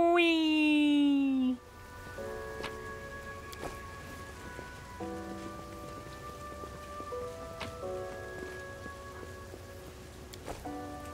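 A hailstorm spell from the video game Pathfinder: Wrath of the Righteous patters like steady rain and hail on a surface beneath soft sustained music tones, after a brief chime-like sweep at the start.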